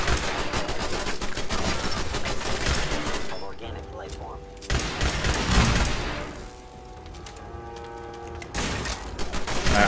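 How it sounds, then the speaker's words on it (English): In Fallout 4, automated turrets fire in dense, rapid bursts that come in loud waves with brief lulls between them. "I could have sworn I turned off those turrets for this exact reason."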